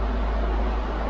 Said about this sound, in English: excuse the noise, this extractor going